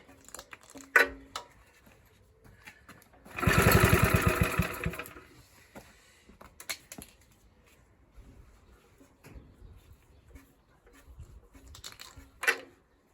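A Suffolk Squire lawn mower engine, a barn-find machine, is run off choke and roars to life in one loud burst of a second or two, then sputters in short, uneven bursts amid quieter pauses.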